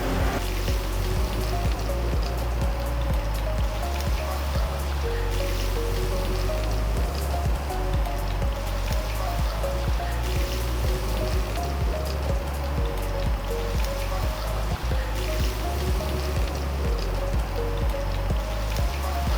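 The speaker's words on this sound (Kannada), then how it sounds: "ಈಗ ಕೋಟಿಂಗ್ ಮಾಡಿರೋಂತಹ ಮಶ್ರೂಮನ್ನು ಎಣ್ಣೆಯಲ್ಲಿ ಇವರು ಫ್ರೈ ಮಾಡ್ತಿದ್ದಾರೆ" Coated mushrooms frying in hot oil give a dense, continuous sizzle and crackle, steady and close throughout with no talk.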